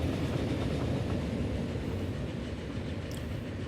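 A train in the Transport Fever game rolls along its rails with a loud, continuous rumble and a soft clickety-clack that holds steady throughout.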